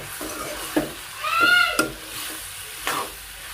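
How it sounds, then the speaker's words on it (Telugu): Ivy gourd (tondakaya) curry with spice powder fries in a pan. A spoon scrapes and stirs in several distinct strokes over a soft background sizzle, close by, with a brief metallic squeak in the middle. "ఇది ఒక 5 మినిట్స్ వేగనిద్దామండి కారము."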